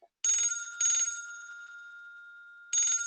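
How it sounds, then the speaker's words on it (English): A telephone rings alone in clear, loud bursts, three electric ring pulses with short pauses between them. "Answer that phone, please, Miss Thornhill."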